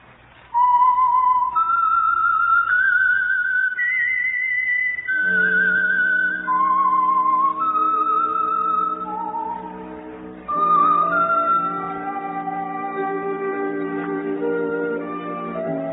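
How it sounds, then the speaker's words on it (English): A lone whistled melody, the theme signal of The Whistler radio program, clear and close, wandering through sustained notes with a low accompaniment joining partway through and carrying to the end. "That whistle is your signal for the Signal Oil program, The Whistler."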